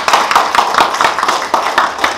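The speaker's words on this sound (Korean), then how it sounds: "동의하시면 박수 좀 쳐주시고요." A lecture audience at a university special lecture on Korean saju fortune-telling gives a short burst of loose, uneven clapping, close and fairly loud, with no talk over it.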